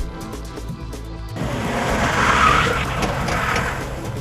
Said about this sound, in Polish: może dojść do uślizgu, tak jak to miało miejsce w tej chwili